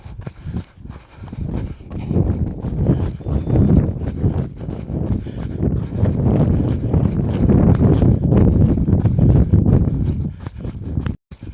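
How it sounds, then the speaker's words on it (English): Wind buffets an Insta360 GO Ultra action camera microphone during a run, a loud continuous low rumble with rustling gusts and faint rhythmic footfalls underneath. "I'm about to switch from mainly headwind to a tailwind and see how different that sounds"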